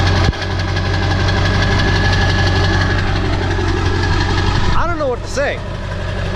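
Straight-piped, muffler-deleted 7.3 PowerStroke diesel truck with a loud, steady, close idle rumble throughout. Near the end a whistling, swooping sound cuts across it.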